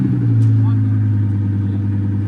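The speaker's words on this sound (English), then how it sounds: "I got to sit in an R8 and rev it up" An Audi R8 engine idles high with a strong, steady low hum and drone near the microphone, a sustained rev with no sharp climbs, while a voice speaks briefly over it.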